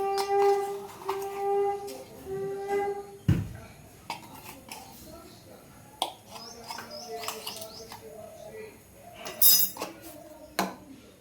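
A spoon works baking powder into thick idli batter made from flattened rice in a bowl, giving soft scrapes and small metallic clinks under intermittent talk, with a bird chirping faintly in the background.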